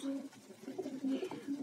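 Domestic pigeons cooing in a dovecote during morning feeding, low soft burbling coos repeating close by and fairly quiet.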